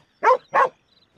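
A dog in the Red Dead Redemption 2 game gives two short, loud barks in quick succession, close by, then goes quiet.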